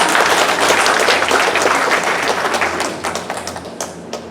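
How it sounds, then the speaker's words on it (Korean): A church congregation breaks into dense, loud applause, many hands clapping together in a hall, strong at first and then thinning into scattered claps toward the end. "박수 한번 쳐서 박수!"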